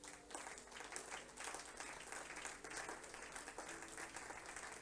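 A church congregation applauds the Lord together, a sustained wash of many hands clapping at a moderate distance, steady and unbroken for several seconds.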